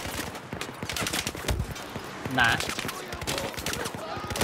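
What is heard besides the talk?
gunfire from a gun in video game Battlefield 4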